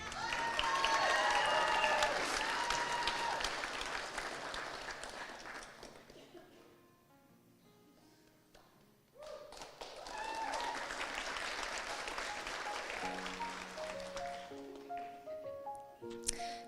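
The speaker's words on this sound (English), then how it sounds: "And another round of applause for Tanner Cade Van Leuven, magna cum laude, Ambler, Oregon" Applause rolls through a university graduation convocation hall in a loud, dense wave that fades to near quiet, then swells again. Tonal music or voices carry through the second half.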